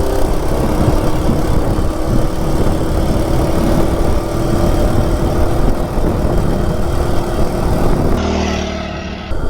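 A stock Coleman RSV minibike with a 196cc engine runs flat out at top speed: a loud, continuous, buzzing engine drone with wind rush, easing off and changing tone near the end.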